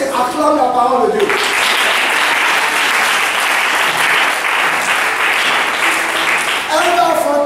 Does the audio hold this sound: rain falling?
no